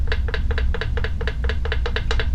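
Rapid rattling clicks from the loose shaft of an Audi TT KO3 turbocharger being wiggled by hand, quick repeated metallic taps in pairs over a low rumbling background, close up.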